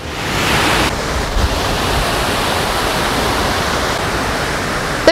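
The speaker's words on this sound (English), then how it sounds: "I finally reached the waterfall." A 6-metre-high waterfall on Oakley Creek in Auckland roars as a constant, dense rush of falling water, loud and close, with no voices over it.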